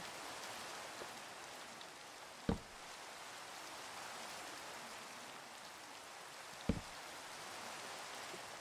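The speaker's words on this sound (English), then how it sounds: "And it's still raining." Steady rain hiss in Minecraft fills the whole clip, with two sharp clicks breaking through partway, no voices.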